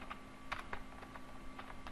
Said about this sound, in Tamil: இங்கே அட்ரஸ் நான் டைப் பண்ணிக்கிறேன்